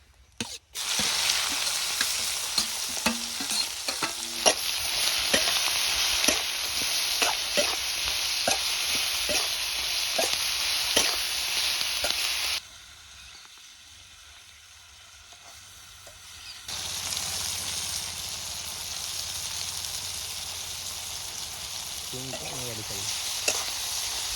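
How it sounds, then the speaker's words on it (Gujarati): Capsicum and onion hitting hot oil with cumin and curry leaves in a pan, a loud continuous sizzle with scattered stirring clicks, dropping briefly to a quieter hiss before resuming strongly. "તો હવે આપણે શિમલા મિર્ચ અને ડુંગળી એડ કરી દઈએ"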